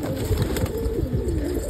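Low, throaty pigeon cooing repeats in soft rolling phrases, close by and steady, with a faint high hum in the background.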